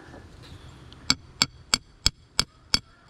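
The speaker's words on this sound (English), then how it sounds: "this ain't the best hammer for doing this, poor nail driving hammer" A nail-driving hammer pounds a metal rod into the ground outdoors: seven sharp, evenly spaced metallic strikes in quick succession, close and loud.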